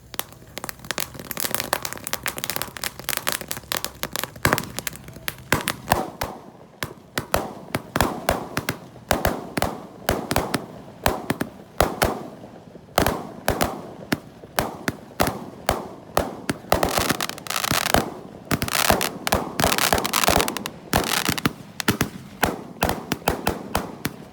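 A pair of large Roman candle fireworks, 1.9-inch size, set off on a Ramadan night, fire a long sequence of loud, sharp cracking bangs that rattle and crackle almost nonstop, close by, with brief gaps between bursts.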